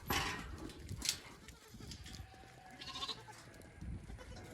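Goats in a farm barn bleat faintly in short bursts amid rustling, shuffling and scattered background noise.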